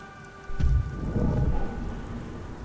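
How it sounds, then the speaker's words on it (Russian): Rain and thunder in the video game Beyond Two Souls: steady heavy rain with a deep rolling thunder rumble swelling partway through, loud and with no talk. "дождь. Когда-нибудь перестанет идти."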